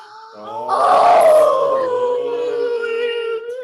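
A puppy lets out one long, rising howl close by, wavering and sliding down in pitch as it trails off over several seconds.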